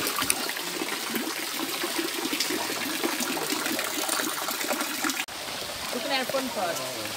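Water from the Bath mineral spring fountain in St Thomas, Jamaica pours and splashes continuously nearby, while voices talk over it.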